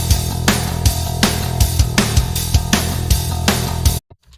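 Mixed rock drum track: punchy kick and snare hits in a steady mid-tempo beat with crashing cymbals, loud and upfront, stopping abruptly near the end.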